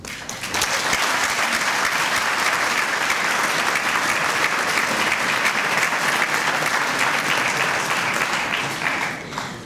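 Sustained audience applause at a bailiffs' conference speech, a dense, even roar of many hands clapping that starts abruptly and continues at full strength for several seconds before easing slightly at the end.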